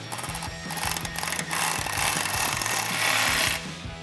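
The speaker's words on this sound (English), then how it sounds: "Switch over to your Phillips bit with your self-tapper, line it up and run it in." A cordless drill with a Phillips bit drives self-tapping screws into a Jeep Gladiator JT soft truck cap, giving a close, loud, rhythmic whirring and rattling that speeds up, then stops near the end.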